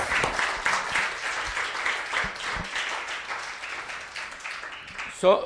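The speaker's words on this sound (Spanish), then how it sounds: "Dale un aplauso a Cristo." A church congregation breaks into applause, a dense run of clapping that carries on steadily and fades slightly toward the end, with a voice heard over it.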